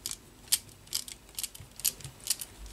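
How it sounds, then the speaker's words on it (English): A screwdriver driving a screw into a captive nut while building a Tamiya Super Clodbuster RC truck kit, a series of small sharp clicking, ratcheting ticks at an uneven rhythm, close and fairly quiet. "you basically just got to turn this round until you can get a screwdriver onto that screw"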